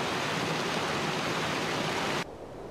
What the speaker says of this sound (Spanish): nos quitamos el ruido este ensordecedor de la cascada